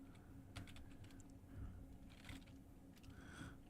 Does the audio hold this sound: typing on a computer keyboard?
yes